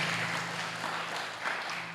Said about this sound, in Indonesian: Tepuk tangan buat ketua dan wakil ketua OSIS sekolah kelas